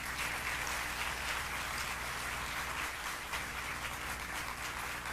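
Audience applause for Senator Schumer at a New York event on the Green CHIPS Act, a steady wash of faint clapping from a distant crowd with no talk over it.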